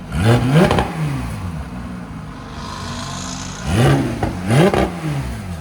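A 2018 Porsche 911 GT3 RS 4.0L flat-six with custom X-pipe and straight pipes revs hard twice with a growling, rising exhaust note, separated by a rumbling idle, loud and nearby.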